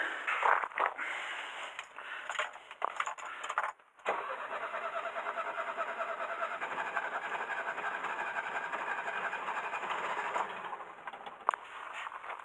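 A Mercedes W115 engine cranks and catches after the fuel system is bled, then settles into a steady running drone that holds for several seconds, close and moderately loud, with no talk.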